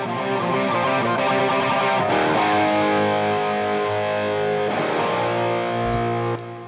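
A sustained, heavily distorted electric guitar with a classic hard-rock mid-range bark rings out with a thick reverberant tail, chords held and changed a few times, loud and alone.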